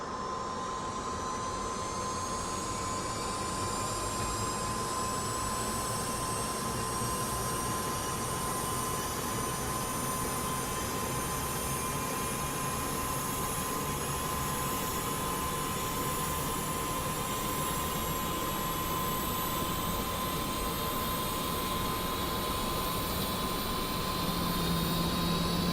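A military aircraft engine starts up in the DCS flight simulator game, a loud, continuous turbine whine with tones that slowly rise as it spools up, holding steady throughout with no speech.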